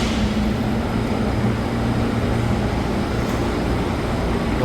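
An airport people mover train at Guarulhos gives a steady, loud rumble with broadband rolling noise throughout and no distinct events; no talk.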